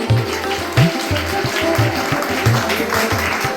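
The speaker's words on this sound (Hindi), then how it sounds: "तालियों से स्वागत करें।" Applause welcomes a teacher at a Teachers Day event at a school, a steady wash of clapping from a gathered group. Rhythmic low thumps of music or amplified beats run underneath throughout.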